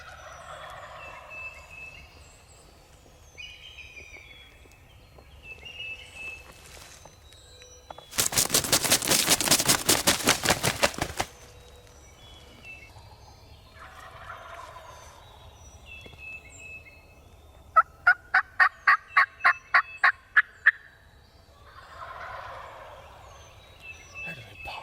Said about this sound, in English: There's a pile of gobblers in there.